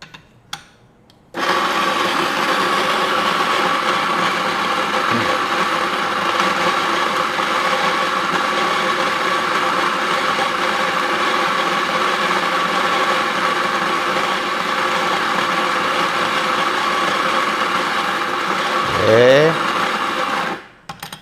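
A home-use espresso machine hums in a steady, loud mechanical drone while making a mocha, starting abruptly and running continuously for about twenty seconds before cutting off, with a brief rising whine near the end.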